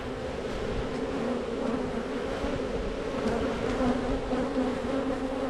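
Honeybees hum steadily throughout a hive inspection at an apiary, a dense, even buzz close by with no voices over it.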